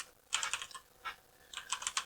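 Code is typed on a computer keyboard in quick clusters of light, close clicks separated by short pauses, with no speech.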